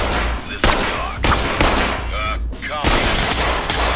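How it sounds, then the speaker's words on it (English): Rapid bursts of automatic gunfire in the tactical shooter Ready Or Not, loud and close, repeating in several volleys with a faint voice talking underneath. "shoot right in front of this door where I am"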